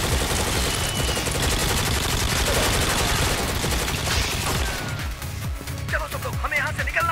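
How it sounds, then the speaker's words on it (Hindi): Rapid, sustained automatic gunfire fills a horror-movie scene as people shoot at a giant spider, loud and continuous with shouted voices mixed in, thinning toward the end. "गोली चलाओ सब लोग।"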